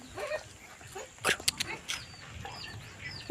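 Pet dog giving a few short barks and yips with whimpering in between, close and fairly quiet, amid light room noise with no talking.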